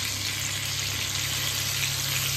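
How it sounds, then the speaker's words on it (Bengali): Chicken pieces for biryani fry in a pan, a steady, loud, close sizzle that keeps going without a break, with no voices over it. "এখন বার করে যে বিরিয়ানির জন্য চিকেনটা আগে ভেজে নিচ্ছি"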